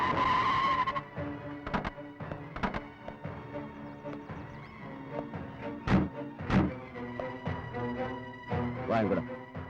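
A vehicle brakes to a halt in a Tamil film scene: a tonal engine note fades early, followed by several sharp thuds and scraping, skid-like bursts at moderate loudness.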